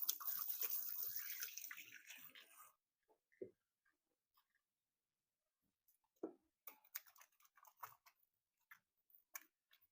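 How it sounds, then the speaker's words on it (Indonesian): Hands being washed under running water while preparing homemade meatballs in a home kitchen, a steady splashing rush for the first few seconds, then a quiet pause followed by scattered close clicks and small taps of handling. "jadi aku cuci tangan dulu ya."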